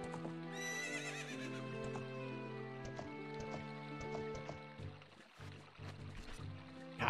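A horse whinnies loudly in the video game The Legend of Zelda: Ocarina of Time, then hooves clip-clop steadily at a trot, close by, with faint background ambience.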